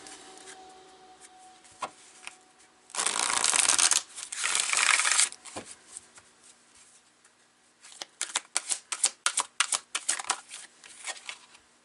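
Oracle cards being shuffled in two bursts of close, crisp riffling and flicking, with a rapid run of sharp card snaps toward the end and quiet pauses between.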